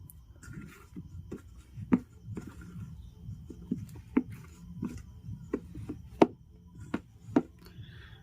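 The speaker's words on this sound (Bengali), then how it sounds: "এবার খুব সুন্দর করে আমি ডোটাকে মেখে নেব।" Semolina and flour dough is kneaded by hand, making soft rubbing and squishing sounds with frequent light taps and slaps against the surface, close and quiet, in an irregular steady rhythm.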